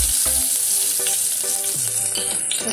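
Red chili fries in hot oil, a loud, bright, steady sizzle heard close by, broken by several light stirring knocks spaced through it.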